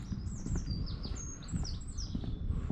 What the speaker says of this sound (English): All I can hear is the birds chirping and the odd car in the distance.